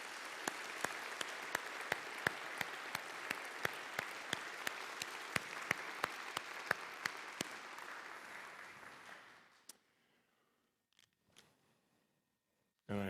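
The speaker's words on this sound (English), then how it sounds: "why don't we give another round of applause to all of our honorees this evening" Applause from a church synod assembly's evening celebration audience honoring recognized guests, a steady dense round of clapping with a few sharper nearby claps, lasting about ten seconds before cutting off into near silence.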